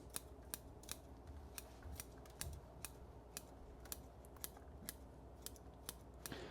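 Scissors snip repeatedly at bonsai roots on a China doll forest planting. The crisp cuts come at a fairly even, quick rhythm, close and quiet, with no voices.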